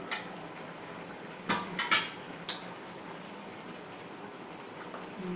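A metal lid comes off a pot of shukto, a Bengali vegetable dish simmering on the stove, with a few sharp clinks and clanks of cookware close by in an otherwise quiet kitchen.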